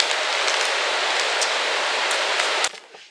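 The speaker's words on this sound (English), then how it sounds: "I don't think you can hear me with the rain" Heavy rain pours outdoors in a dense, steady hiss close by, then cuts off abruptly near the end.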